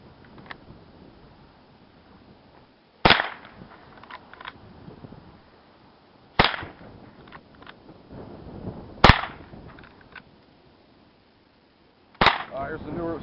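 A Marlin 39A .22 lever-action rifle fires four sharp, single cracks spaced a few seconds apart, with quieter cycling of the lever and handling noises between shots.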